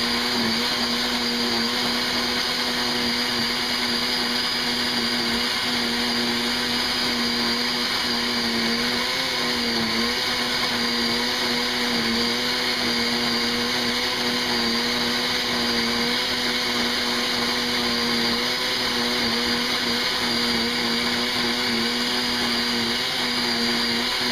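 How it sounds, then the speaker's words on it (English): A blender purees red chili for menudo with a loud, unbroken motor whine and a steady high-pitched hum that runs without a break, close up, with no talking. "So you blend the chili"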